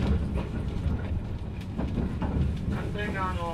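Moha 182-22 limited express Suigo electric train running between Chiba and Sawara, a steady low rumble of wheels and motors heard from inside the car, with faint rhythmic clatter and a brief squeal near the end.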